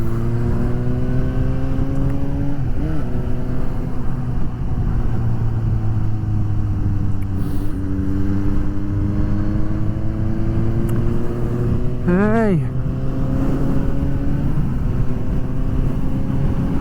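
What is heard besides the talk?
Suzuki GSX-S750 motorcycle riding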